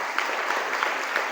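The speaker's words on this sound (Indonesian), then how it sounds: "Tepuk tangan untuk Al-Hasan Putri hari ini." An audience at a Maulid celebration and graduation at a modern Islamic girls' boarding school claps briefly, a dense, fairly loud patter with a few sharper accents.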